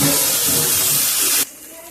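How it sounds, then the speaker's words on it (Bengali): A sesame and poppy seed paste fries in a pan with a loud, close sizzling hiss for about a second and a half, then drops abruptly to a quiet background. "তিল আর পোস্ত বাটাটা দিয়ে আমি একটু কষে নেব।"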